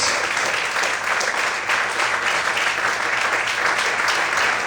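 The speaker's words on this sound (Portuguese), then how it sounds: "aplaudir ao Senhor essa noite" A church congregation applauding during an evening service, a loud, sustained roar of many hands clapping with a faint rhythmic pulse running through it, no voices standing out.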